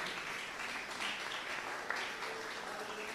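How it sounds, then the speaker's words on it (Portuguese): A church congregation claps along in praise during a worship service, a steady, diffuse patter of many hands heard from a moderate distance, fairly soft, with no talking over it. "pode louvar a Deus com as palmas bem alegres para Jesus"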